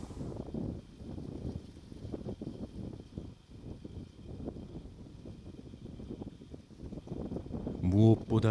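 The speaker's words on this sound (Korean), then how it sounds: "맞바람이 불어오고 있어 더욱 한기가 느껴진다." A cold headwind gusts across a fishing canal, buffeting the microphone with a low, rumbling, uneven roar that swells and dips continuously, with a louder burst near the end.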